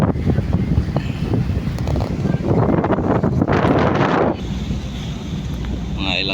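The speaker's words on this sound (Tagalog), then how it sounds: "rinig nyo ang ihip ng hangin" Steady wind blowing hard across the microphone aboard a boat nearing port, a continuous rough rush with a louder gust in the middle before it eases slightly.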